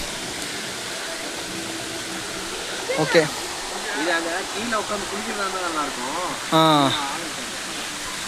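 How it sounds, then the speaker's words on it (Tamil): A hidden waterfall in Andhra Pradesh pours steadily down the rocks, a constant broad rushing hiss heard close by while someone talks over it. "ஸோ இதுதான் இந்த ஃபால்ஸு"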